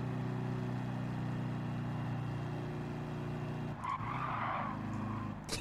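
A video game car drifts with engine drone and tire skid held steady for nearly four seconds, then the roar shifts and a squealing skid rises before fading.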